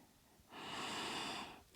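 A person breathes in during a yoga hip-mobility stretch, one long, steady, airy inhale lasting about a second, close and soft, with no talk.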